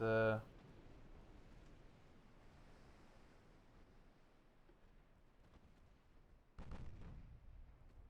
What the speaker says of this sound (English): they are shooting with their 5-pounders